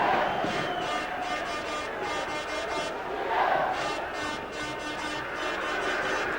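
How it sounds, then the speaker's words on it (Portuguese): Moroccan football supporters fill a stadium during an international friendly against Chile with a constant roar of chanting and cheering, while a commentator talks over the crowd noise. "E aí a torcida marroquina vai fazendo a festa"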